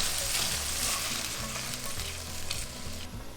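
Ground meat sizzling loudly as it is added to soffritto in a frying pan for a tomato-free white ragù, a steady dense crackle with stirring throughout.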